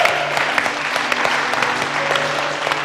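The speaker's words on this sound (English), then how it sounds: "Give yourselves a round of applause" Audience applause in a cooking competition studio, a sustained, dense burst of clapping from a crowd, loud and steady throughout.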